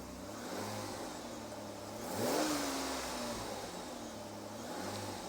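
A warm Peugeot 406 Coupé V6 engine runs at idle with a steady low hum, rises into one clear rev around the middle, then settles back to a smooth idle. No voices are heard.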